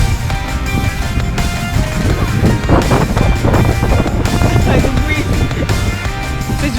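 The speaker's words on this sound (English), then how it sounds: "It's very windy here" Wind blowing in Emancipation Park, Kingston, Jamaica, a steady loud rush buffeting the microphone throughout, with low rumbling gusts and faint voices and other background sounds mixed underneath.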